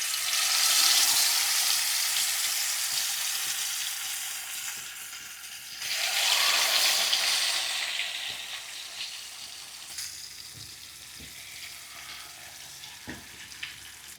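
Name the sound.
fish frying in hot oil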